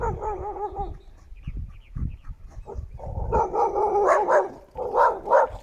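A dog barks close by in a run of sharp, repeated barks that grows louder and more frequent in the second half, after some quieter yelps and thumps early on.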